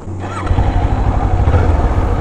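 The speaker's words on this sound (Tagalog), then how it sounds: "The sound of the stock muffler." A Kawasaki Z400 on its stock muffler revs up and holds a steady, throaty exhaust drone, close and loud, with a brief idle before the throttle opens.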